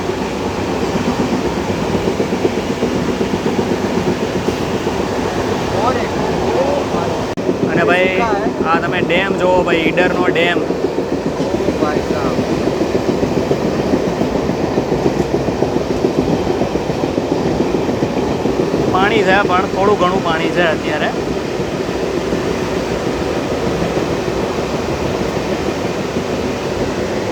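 A train running on the new Ahmedabad–Khedbrahma rail line, a steady, loud rumble and rush that holds throughout, with someone speaking over it in two short stretches.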